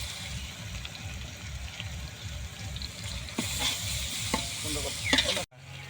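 Ginger-garlic paste frying with browned onions in hot oil for a Kolkata-style chicken biryani. A close, dense crackling sizzle goes on throughout, with a few stirring knocks near the end before it cuts off abruptly.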